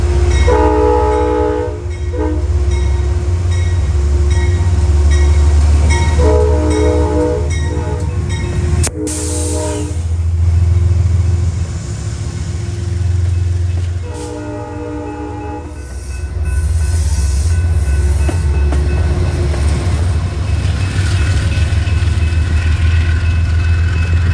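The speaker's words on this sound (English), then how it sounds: "The train then departs the platform almost completely empty" A train rumbles and idles nearby at a platform in Burlington, Vermont, its horn sounding in long loud blasts and a sharp clank midway, as the heavy engine drone pulls away.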